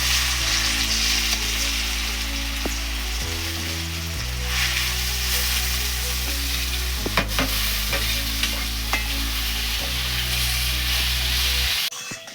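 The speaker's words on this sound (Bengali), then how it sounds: "এবার চালটাকে আস্তে আস্তে ভেজে নেব।" Rice fries in oil with a steady sizzle and low hiss, broken by occasional scraping stirs of a utensil against the pan.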